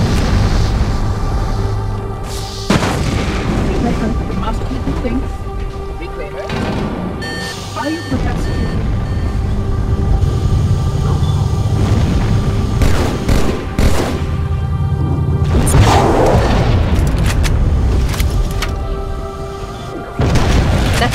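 A fusion reactor blowing up in Halo Custom Edition, loud booming blasts with bursts of gunfire over a dense rumbling game soundscape, a sharp hit near 2.5 seconds and another swell around 16 seconds, with a voice speaking.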